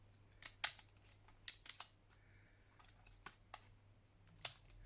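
Sharp snipping of scissors cutting paper, several quick cuts in uneven bursts with pauses between, close up and quiet against a faint hum.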